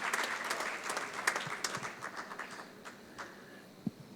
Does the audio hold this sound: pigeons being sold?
no